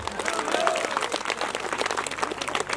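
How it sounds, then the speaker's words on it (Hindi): A crowd applauding at an idol consecration festival in a Rajasthan village, dense and continuous clapping close by, with a faint tone briefly rising over it. "लेकिन अगर आप ताली बजाओ तो"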